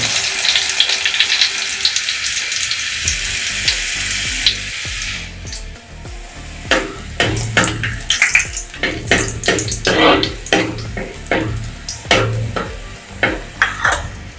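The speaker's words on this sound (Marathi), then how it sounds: "आता फोडणीसाठी मी हे लसूण टाकणार आहे. लसणावरती मी फोडणी देतो." Hot oil sizzles loudly with a steady hiss, then crackles and pops unevenly as garlic hits the pan, close up.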